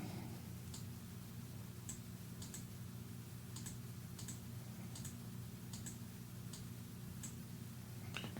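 Sparse, soft clicks of a computer keyboard, isolated keystrokes spaced irregularly over a low steady hum, faint and quiet with no voices.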